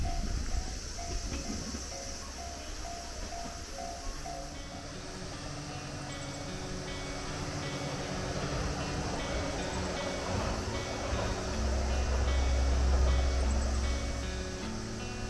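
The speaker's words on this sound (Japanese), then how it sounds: "米子行きのね列車です。" A train bound for Yonago passes Nunohara station on the Hakubi Line in a remote valley, a steady rumbling roar that swells louder toward the end, with a faint hiss and no talk.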